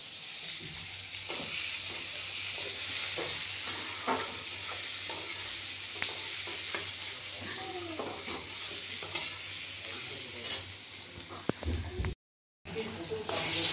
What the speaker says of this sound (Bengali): জিরে, তেজপাতা, শুকনো লঙ্কা ফোড়ন দিয়েছি।